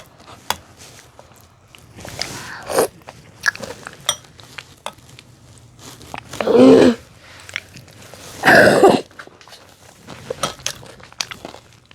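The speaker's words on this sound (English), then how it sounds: "today I'm gonna eat kiwi with the cereal." Close-up crunchy bites and chewing of fresh kiwi eaten with breakfast cereal, a few loud crunching bursts standing out between softer mouth sounds in a quiet room.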